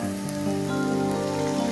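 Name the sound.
water poured into a hot pan with walnuts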